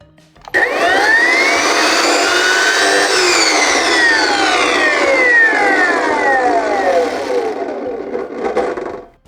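A Procraft AM3600 metal cutting saw runs loudly and close for about nine seconds, its broad whine rising as it cuts, with sweeping tones that slowly fall before it stops; no one speaks.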